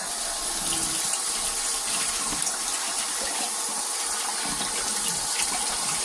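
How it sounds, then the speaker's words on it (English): Food rinsed under a running kitchen tap, a steady loud gush of water pouring continuously with no pauses and no voices. "what I am going to do is give it a good rinse"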